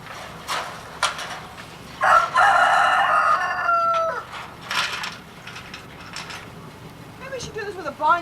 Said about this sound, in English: There's all the chickens.